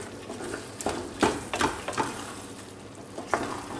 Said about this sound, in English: Just give that a mix around.